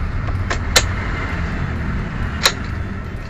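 A manual-transmission car's engine idles in neutral after being started, giving a steady low rumble close by, broken by a few sharp clicks from switches or the cabin.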